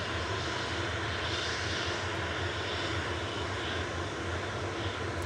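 An Etihad Boeing 777 heavy jet passes over Cheadle near Manchester Airport, a faint, steady, distant engine drone with no voices.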